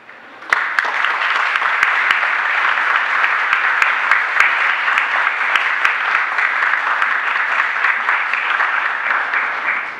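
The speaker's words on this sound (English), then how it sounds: "we do so with a huge round of applause" Audience at a closing plenary on urban mobility giving a big round of applause, dense steady clapping starting suddenly and holding loud and even for ten seconds.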